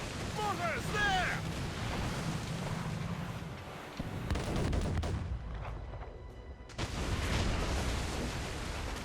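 Naval mortars and cannons fire at sea during Assassin's Creed Rogue, with heavy booms and rumbling blasts over rushing water and wind, while distant shouting voices carry through the battle.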